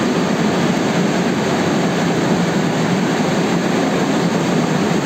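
Metro train at a metro station, a steady loud rumbling roar of the train filling the platform throughout, with no speech.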